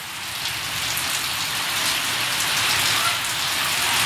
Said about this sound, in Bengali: ওই দেখো কি বৃষ্টি পড়তেছে